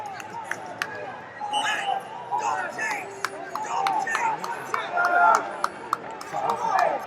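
Spectators cheer from the stands at a 74 kg quarterfinal wrestling match: a steady crowd roar with shouts and whistles, over a commentator's voice and sharp slaps or thuds from the mat.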